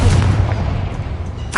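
A Confringo blasting spell bursts in Hogwarts Legacy with a deep, booming low rumble at the start that fades under a steady hum, followed by a brighter crackling burst near the end.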